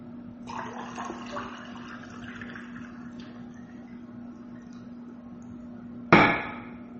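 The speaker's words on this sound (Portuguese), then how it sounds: "Deixa eu pegar mais água aqui." Water trickles and pours into a glass indoors, a soft irregular stream over a steady low hum, ending with a sharp clink of the glass near the close.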